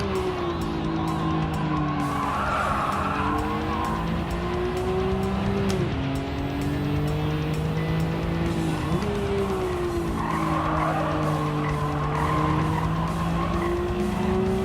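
A race car in Gran Turismo 7 roars continuously as its tires squeal and skid through corners, the engine note rising and dipping under the screech for the whole stretch.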